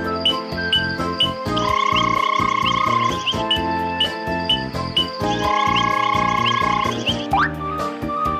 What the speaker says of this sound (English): the frogs are here to sing their froggy song